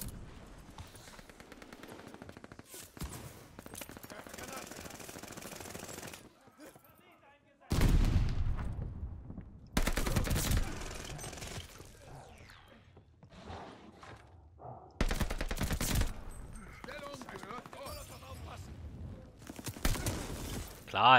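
Enemy gunfire in Call of Duty: Vanguard, heard as bursts of automatic shots and loud cracks between stretches of quieter game noise, with several heavy volleys near the middle and end, and talking in between.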